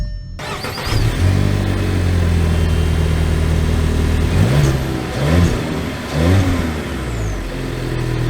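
A 2024 VW Jetta with the 1.5T engine and automatic gearbox cranks and fires up after a brief pause, then revs and settles into a steady idle with a couple of short throttle blips, close and clear with no talk.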